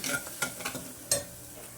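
Coriander and cumin powder for Puneri misal sizzle in a pan while being stirred, with a few sharp scraping strokes over a steady frying hiss, close and moderately loud, no talking.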